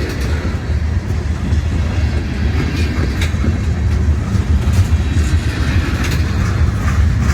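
A CSX freight train rolls steadily past on the tracks, a loud continuous rumble with faint rhythmic clacking of wheels over rail joints, with a mid-train DPU locomotive.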